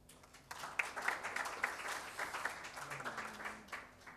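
Audience applause for a speaker stepping up at an architecture talk. The clapping is quiet and slightly distant, with a few sharper individual claps above a steady patter over several seconds.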